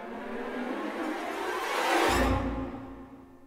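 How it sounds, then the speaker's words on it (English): A riser effect in a documentary TV music track swells steadily over about two seconds into a whooshing peak, then drops into a low boom and fades out, loud and alone with no talk. "So here you can kind of hear the riser."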